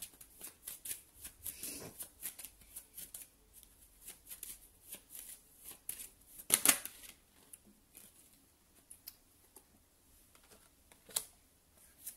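Tarot cards shuffled by hand ahead of a love reading, a steady stream of soft riffling and flicking taps across the whole stretch, fairly quiet and close, with one sharper burst of card noise midway.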